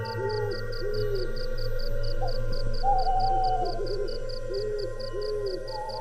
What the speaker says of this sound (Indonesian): Banyak sekali burung-burung.